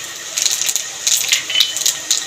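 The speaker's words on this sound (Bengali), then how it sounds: "চিংড়ি মাছে গরম তেলের মধ্যে ফোড়ন দিয়ে দেবো লং, এলাচ, দারচিনি, সাথে গোটা জিরে।" Whole cloves, cardamom, cinnamon and cumin seeds dropped into hot oil for a Bengali prawn curry, giving a close, steady crackling hiss with bursts of popping.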